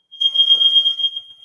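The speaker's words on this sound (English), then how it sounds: "First Thursday of the month, it's fire alarm time." A building fire alarm sounds during the monthly first-Thursday fire alarm test, a loud, steady high-pitched electronic tone pulsing slightly and running continuously for over a second with no talk.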